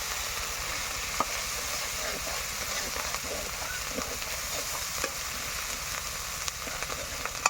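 Spices and ginger paste fry in a pan, giving a steady, close sizzle with scattered scraping clicks from stirring throughout.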